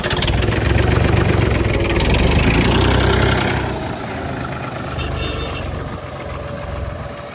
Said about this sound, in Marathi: महिंद्राचा ट्रॅक्टर आहे काय?